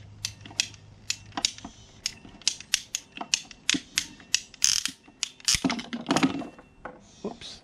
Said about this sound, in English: you could just take your pipe cutters and cut this off.